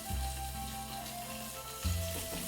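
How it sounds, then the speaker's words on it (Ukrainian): Pork fat sizzles and crackles steadily in a pan, a continuous frying hiss with a low hum underneath and no talking. "Не будемо забувати, що у нас смажиться наше сало."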